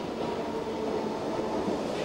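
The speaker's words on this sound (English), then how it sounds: "Here we join a special train formed of A stock and travel southwards" A London Underground A stock train runs steadily on the line, its wheel and motor rumble filling the space with a constant, moderately loud drone and no voices.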